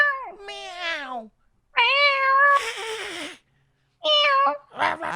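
A person imitates a cat with three drawn-out, expressive meows separated by short pauses, close and clear, with a burst of breathy noise between them.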